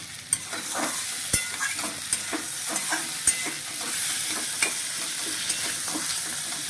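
Chopped onions sizzle in hot oil in a pan for a jackfruit chili dish, a constant close hiss broken by sharp clinks and scrapes of a spoon stirring at irregular intervals.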